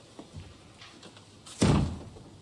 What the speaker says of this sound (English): Shut the door, Wilson, please.